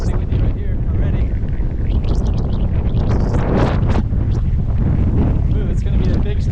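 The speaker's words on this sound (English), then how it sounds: "But actually it's pretty windy right here already." Strong typhoon wind sweeps along a street in Taipa, Macau, roaring and buffeting the microphone in a loud, unbroken rush, with muffled voices underneath.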